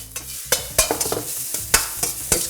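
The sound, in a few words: wok tossing salmon and onions in XO sauce, sizzling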